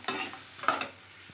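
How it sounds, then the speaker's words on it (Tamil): Onions stirred and lightly sizzling in a pan, with a couple of scraping bursts as they are moved around, close and moderately quiet. "வெங்காயம் நல்லா கிளாஸ் மாதிரி வதங்கணும்"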